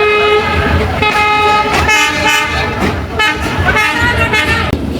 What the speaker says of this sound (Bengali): যশোর ট্রেন স্টেশন থেকে বেনাপোল থেকে যাইতেছি আমরা ট্রেনে করে।